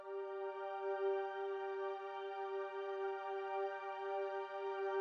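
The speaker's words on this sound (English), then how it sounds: "So I used square wave oscillators with some pulse width modulation, a little bit of detuning, and I'm using the Wander LFO to modulate the shape." Ableton Drift synth string patch built from detuned square-wave oscillators with pulse width modulation in unison mode, one sustained even tone held steadily throughout, soft and close, with no talking.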